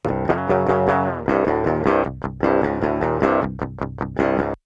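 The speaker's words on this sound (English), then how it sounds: "That's the sound of a DI track, so just the guitar by itself without any processing." A clean, dry DI electric guitar with no processing strums chords in a steady rhythm, bright and unprocessed, with short pauses and some single plucked notes near the end.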